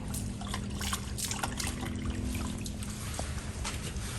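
A wash mitt rubs a gloss black car wheel with rinseless wash water, giving a soft, continuous wet swishing and trickling at close range.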